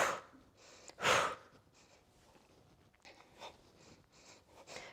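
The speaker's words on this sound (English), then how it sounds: "Every time you close it in, I want you to forcefully exhale." Forceful exhales during a fast-paced yoga breathing flow, a sharp, loud breath burst near the start followed by softer, rhythmic breaths, close to the microphone, with no talking.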